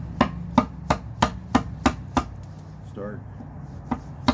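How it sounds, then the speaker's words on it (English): Rhythmic chopping strikes of a gutter adze carving wood for Tlingit carving work, about seven sharp evenly spaced blows near the mic, then a pause with a brief spoken word and another strike. "take this and adze, the gutter adze"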